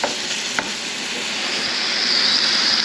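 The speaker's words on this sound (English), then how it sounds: "the first thing you do is brown some ground beef" Ground beef browning in a pan for Maid-Rite style loose-meat sandwiches, a loud continuous sizzle and hiss with occasional scrapes of a spoon breaking up the meat, close and with no voices.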